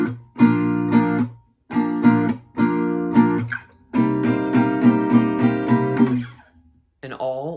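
Acoustic guitar strumming in loud, close bursts for a line of a song, live version. There is a longer run of rapid strums near the end, then a brief ringing slide or bend.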